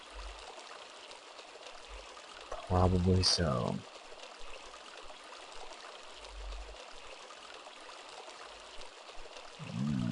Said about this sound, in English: Another leaky pipe.